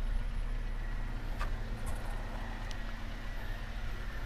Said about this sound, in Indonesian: Mobilnya sudah saya hidupin dari tadi nih